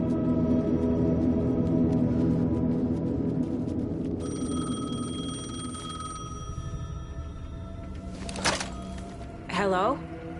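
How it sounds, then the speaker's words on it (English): A telephone rings in the video game Alan Wake 2, with high electronic ring tones sustained over a dark ambient drone, followed by a few sharp clicks and a rising chirp near the end. "phone was ringing"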